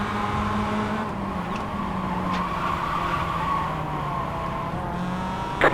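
Mazda MX-5 race cars howl around a circuit in close racing, a steady, moderately loud engine drone with pitch shifts as the cars jostle for position.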